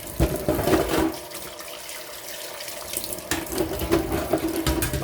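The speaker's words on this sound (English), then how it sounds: "use hot water to rinse the pieces off with" Hot water runs from a sink tap while plastic pieces of a Mainstays 12-inch oscillating table fan are rinsed, a steady broadband splashing with brief louder bursts and changes as the stream hits the parts.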